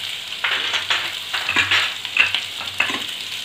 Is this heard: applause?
no